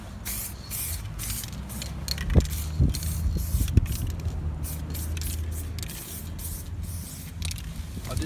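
Spray can hissing paint onto a tank in a steady, continuous stream lasting several seconds, with a few faint clicks and knocks mixed in.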